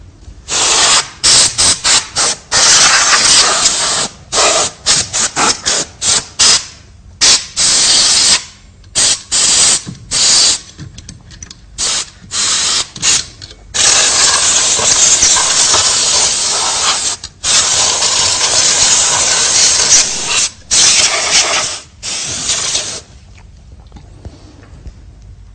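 A computer power supply is cleaned with bursts of compressed air, loud sharp hissing blasts repeated in quick short pulses at first, then longer sustained sprays, with a faint rattling of the spinning fan between them.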